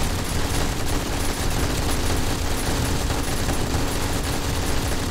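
Automatic turrets firing nonstop at zombies in 7 Days to Die with the Darkness Falls mod, a dense, loud barrage of rapid gunfire and impacts that never lets up.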